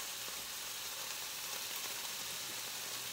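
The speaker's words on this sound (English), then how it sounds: "I'm going to go ahead and dump in the green onion" Steady, soft sizzling of green onion frying in a pan for paella, an even hiss of hot oil with faint crackles, quiet and close with no talking.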